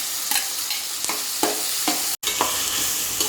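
Tomatoes, green chilies and ginger-garlic paste fry with onions in a pan for vegetable biryani, a continuous close sizzle broken by regular stirring scrapes, with a brief dropout partway through.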